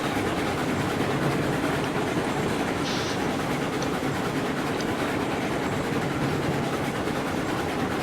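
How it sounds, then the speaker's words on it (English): A steam locomotive in the video game Railroads Online climbs uphill up a valley, a continuous steady rumble and chug of the engine and rolling cars, moderately loud with no talk. "I want to turn the train's volume down a little bit in preparation for her to start howling"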